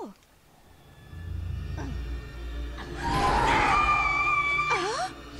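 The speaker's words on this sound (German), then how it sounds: "Madame Strigoi, wir haben Sie schreien gehört." A woman's scream rising and falling in pitch, from the vampire Madame Strigoi in the video game A Vampire Story, swelling loud over a low background hum with a brief second cry near the end.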